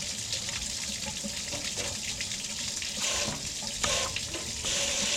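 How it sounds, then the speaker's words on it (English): Tap water runs steadily as ground glass cups from diamond lapping-wheel grinding are rinsed, a close continuous splashing gush with shifting spatter as the glasses move under the stream, no talking. "The best way to do that is to just flush the crap out of them with water."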